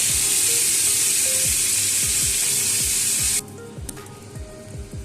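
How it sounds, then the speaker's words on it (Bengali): Cauliflower florets fry lightly in oil in a pan, a loud close sizzle with rhythmic stirring scrapes that drops away abruptly near the end, leaving quieter clinks and scrapes. "ফুলকপিগুলো এইভাবেই ভাজা হবে, এর থেকে বেশি ডিপ ফ্রাই হবে না, এরকম লাইট করে করতে হবে।"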